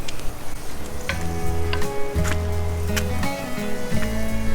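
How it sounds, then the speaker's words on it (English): About two tablespoons of butter sizzling in a 12-inch skillet over coals on a Weber Jumbo Joe grill, a steady close frying hiss with scraping and tonal hum, no talk. "I've got about 2 tablespoons of butter I'm gonna throw in here"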